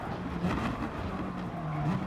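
Gr.3 race cars on the Lago Maggiore track in Gran Turismo Sport, engines droning steadily with a tonal whine as several cars run close together, sustained and fairly loud throughout.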